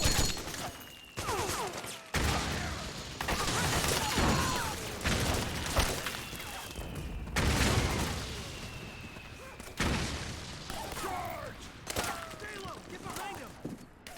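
Gunfire in Metal Gear Solid 4 crackles in dense bursts and booms throughout a long, loud battle, mixed with game music, mechanical noise and voices talking over it.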